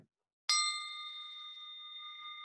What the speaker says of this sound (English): when you hear this bell sound